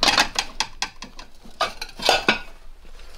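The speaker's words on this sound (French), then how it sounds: "On va prendre une vieille assiette ici. Je sais pas ce que c'est. Je vais prendre celle de dessous." An old plate is pulled from a stack of dishes in an abandoned house, giving a series of sharp ceramic clinks and clatters in an irregular rhythm. Heard close and loud, with no talk.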